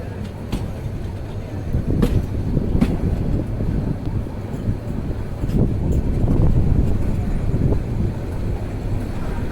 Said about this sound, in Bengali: রাত বারোটা সাত মিনিটে ট্রেন ছেড়ে গেল নরসিংদী রেলওয়ে স্টেশন থেকে